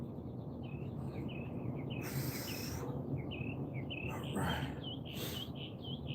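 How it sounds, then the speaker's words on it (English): Dawn birdsong at sunrise: repeated short chirps and whistled calls from several birds at a moderate distance, running steadily over a constant low ambient rumble, with a couple of louder broadband rustles in between. "you can hear the birds."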